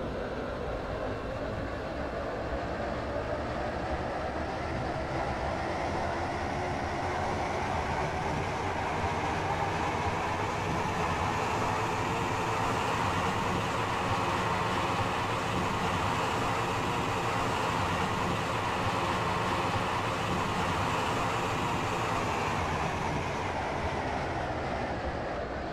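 A train rolls along steadily in the Roblox game Stepford County Railway, a Stepford Connect service heading to Westwyvern, giving a loud continuous rumble and rail noise with a faint rhythmic clatter throughout.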